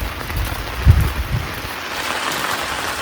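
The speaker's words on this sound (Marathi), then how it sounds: "दादा पाऊस आला" Sudden pre-monsoon rain falls on a shepherd's camp, a steady hiss of drops with a few dull thumps near the start.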